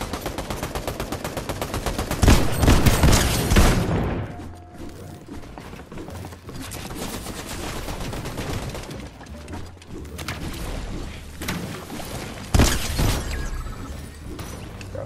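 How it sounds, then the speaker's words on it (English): Rapid automatic gunfire from the video game Fortnite rattles loudly in bursts, then scattered shots and crackling continue more faintly with another sharp burst near the end. "who's shooting at me"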